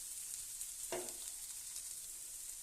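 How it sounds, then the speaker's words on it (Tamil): Bitter gourd frying in oil on a high flame, a constant hiss of sizzling with one brief stirring scrape partway through, close and steady with no voices. "ஒரு 2 நிமிஷத்துக்கு இப்படி நம்ம கிளறி விட்டால் போதும். ஸோ ஒரு 5 மினிட்ஸ்க்கு இந்த மாதிரி குக் பண்ணிடலாம் ஹை ஃப்ளேமில்."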